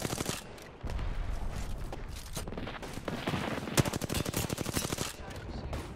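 Rapid bursts of automatic gunfire crackle through a firefight in the Apex Legends video game, dense volleys and single sharp shots continuing steadily with a loud crack near the middle.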